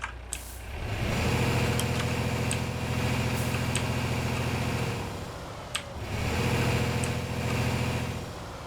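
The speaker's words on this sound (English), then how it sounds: "You can hear the engine noise is very good. It's very well modeled, especially when we start revving it." A Ford F-MAX diesel truck engine in Euro Truck Simulator 2 revs loudly twice, surging to a droning roar and dropping back near idle in between, heard alone and up close.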